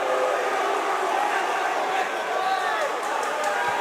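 Crowd noise at a live amateur MMA welterweight championship cage fight, a steady roar of spectators rising in excitement with commentary voices over it.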